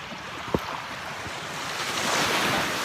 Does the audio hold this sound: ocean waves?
yes